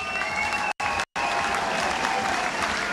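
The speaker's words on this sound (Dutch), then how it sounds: "Ja, even een applaus voor Paul de Pla." Crowd applause at a live carnival event, dense and sustained hand-clapping filling the space, loud and steady apart from two very brief dropouts.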